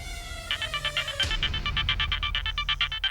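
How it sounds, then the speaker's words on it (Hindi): A phone ringtone rings loudly and close, a rapid chiming electronic melody with regular repeating pulses, heard alone after a brief lead-in tone. "सर जी का फोन है।"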